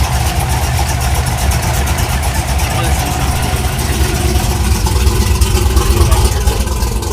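Chevrolet Silverado truck from 2014 or later, fitted with a Mishimoto transmission cooler, idles with a loud, steady low rumble that holds continuously over the whole stretch, close to the microphone.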